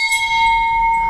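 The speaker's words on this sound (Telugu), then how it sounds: "నవదుర్గల గంట" A Navadurga temple bell at the Navaratna Mandapam of the Sri Veerabrahmendra Swamy math rings with a sustained, clear metallic tone, its layered overtones humming steadily and close without talk.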